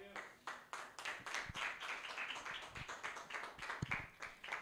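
A church congregation at a prayer service claps in a quick, uneven rhythm, faint and somewhat distant, with a few voices murmuring underneath.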